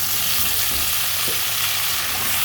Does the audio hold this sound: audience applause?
no